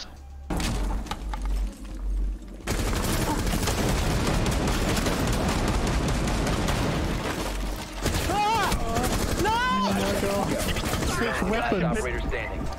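Sustained heavy gunfire from the tactical shooter Rainbow Six Siege, dense overlapping shots and bursts rattling loudly for many seconds, with a short lull early on and chaotic game effects mixed in near the end.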